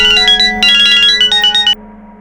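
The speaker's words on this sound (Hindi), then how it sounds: "अस्पताल से फोन था" A phone ringtone chirps in quick electronic bursts over a steady low hum, about two seconds of tonal warbling that cuts off abruptly and leaves only the background drone.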